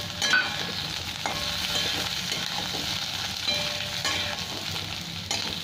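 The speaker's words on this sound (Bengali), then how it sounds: "পেঁয়াজের সাথে আরও 2 মিনিট ভেজে নেবো আমি।" Sliced potatoes and onion fry in a pan, giving a steady sizzling hiss broken by intermittent scraping as they are stirred; close and moderately quiet, with no talk.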